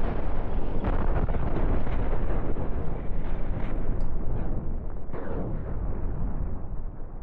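Dense, continuous roar of missiles launching and exploding in the space combat game Cosmoteer, loud and unbroken with overlapping booms throughout.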